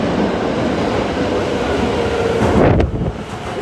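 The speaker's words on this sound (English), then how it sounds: "The lights are flashing and the train is coming." A train rolls into a Tokyo station platform with a loud, steady rush of rumble and wind noise, swelling slightly near the end with a brief sharp hiss, and no voices.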